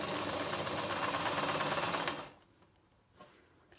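Sewing machine running a backstitch at the start of a seam: a loud, fast mechanical whir for about two seconds, then it stops, leaving quiet with a couple of faint handling clicks.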